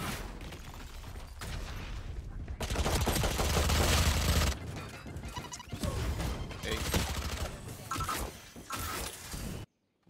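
Rapid gunfire from a shooter video game, dense volleys of shots and crashing impacts filling most of the stretch with brief lulls, loud and close, then cutting to silence at the end.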